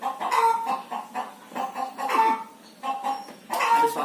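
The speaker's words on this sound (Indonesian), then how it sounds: "Ini suara induk ayam yang baru selesai bertelur." A hen clucks after laying an egg, giving loud, repeated rhythmic cackles in bursts close to the listener, with no talking.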